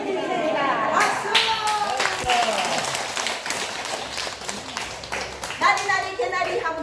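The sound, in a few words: group clapping hands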